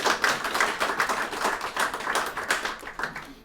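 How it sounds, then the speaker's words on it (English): Applause from an open mic audience at a publishing event for a performer named Steve, a steady patter of many hands clapping at moderate volume with no talk. "I'll give Steve a round of applause."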